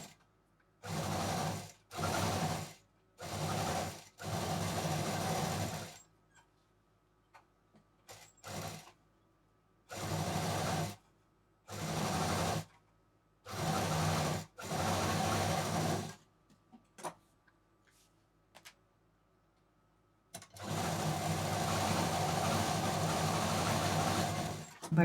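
A sewing machine stitches the handle of a homemade tote bag in repeated bursts. The runs are loud and steady, separated by short pauses, and the clip ends on one long continuous run. No one speaks.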